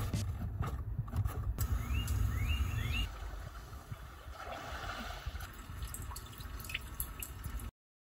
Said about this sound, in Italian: Hyundai nel suo ottimo sistema di infotainment ha inserito una serie di sound chiamati suoni della natura